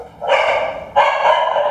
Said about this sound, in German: Das ständige Bellen, die Nähe der anderen und doch das Einsamsein.